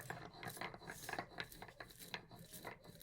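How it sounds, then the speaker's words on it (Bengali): Fried spices are crushed coarsely on a stone grinding slab (shil-nora) in a home kitchen: close, rhythmic scraping and grinding strokes, soft and repeated in a steady back-and-forth. "আমি শিলনোড়াতেই গুঁড়িয়ে নিচ্ছি বন্ধুরা মশলাটা খুব মিহি করে গোড়াবো না একটু দানা দানা থাকবে"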